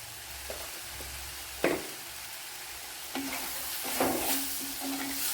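Chilli powder and turmeric powder sizzling in hot oil in a pan for a dried fish curry, a steady frying hiss broken by a few sharp scrapes and clicks of a spoon stirring.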